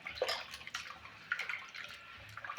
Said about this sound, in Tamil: அப்படின்னா இன்னும் கொஞ்சம் தண்ணி ஊற்றிக்குவோம்.